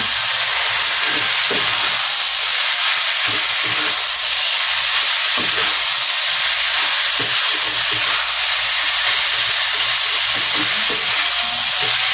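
Stuffed squid filling sizzles and hisses loudly in a hot frying pan while it is stirred, with steady frying noise and intermittent scraping.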